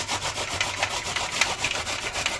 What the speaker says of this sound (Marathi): एक कांदा घेतला त्याला पण खिसत आहे